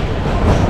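The Kalka-Shimla toy train rumbles loudly and steadily, close by, at Shimla railway station, a dense low roar of rolling carriages with no clear voices.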